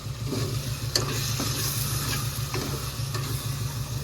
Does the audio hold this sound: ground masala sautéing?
yes